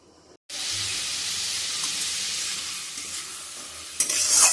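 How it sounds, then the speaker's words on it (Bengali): Onions frying in oil into crisp beresta, a loud continuous sizzle that starts abruptly after a short pause and swells briefly near the end. "তো বেরেস্তাটা করে নিচ্ছি,"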